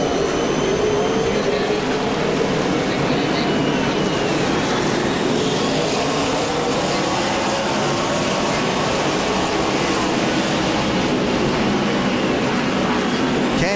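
NASCAR Nationwide Series race cars roar at the start of the race in Montreal, a loud, continuous wash of engine noise with rising and sweeping tones from several cars close by and farther off.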